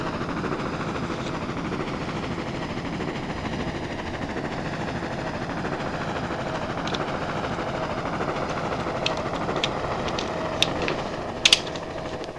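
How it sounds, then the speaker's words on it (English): Minecraft helicopter idling in a blocky Tokyo street, a steady mechanical whir and rattle at moderate level, with a few sharp clicks near the end. "I shall park my helicopter in the middle of the road."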